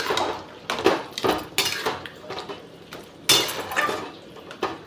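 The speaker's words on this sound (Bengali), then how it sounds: "এবার ভালো করে নাড়িয়ে নিচ্ছি" A metal utensil stirs food in a pot after water is added, giving a run of sharp, irregular clanks and scrapes against the pot, close and fairly loud with no talking.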